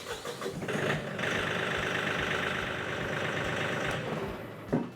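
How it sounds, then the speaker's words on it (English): A tractor engine cranks and catches, then settles into a steady, close diesel-like idle with a rhythmic chug that runs to the end, ending in a brief louder knock. "So I'm going to hop on the tractor and start it and show you how that process works."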